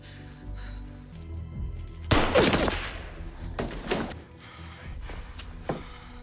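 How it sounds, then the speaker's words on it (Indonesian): Several loud gunshots in a movie scene ring out in quick bursts, with sharp cracks separated by short pauses, and no voices. "Setelah berhasil mengalahkan beberapa pasukan Gemini, akhirnya Tos harus terkena tembakan."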